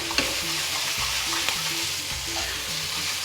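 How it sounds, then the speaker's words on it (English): Green chillies, seeds left in, hit a hot pan of ginger and garlic, giving a loud, steady sizzle and fry with stirring scrapes throughout. "Now I'm going to add those lovely little green chillies."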